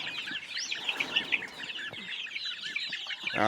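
A crowd of about 150 small chicks in a carrying crate peeps and chirps continuously, a dense high-pitched chorus close by with occasional thumps.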